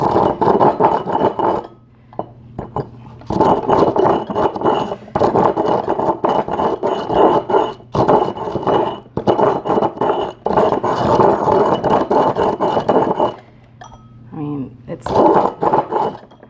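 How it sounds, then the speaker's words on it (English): Repeated gritty grinding and scraping of terracotta in a large mortar and pestle, steady and close, pausing briefly a few times before starting again. "I want you to see how easy this is with my big mortar and pestle"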